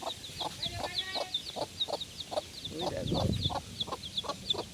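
A hen gives short, regular low clucks while chicks peep constantly in high, rapid chirps; a brief voice murmurs partway through.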